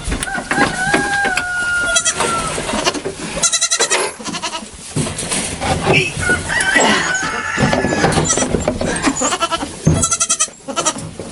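Baby goats bleat in a stall barn among other livestock, several cries at varying pitch overlapping a busy barnyard background, with a person talking at times.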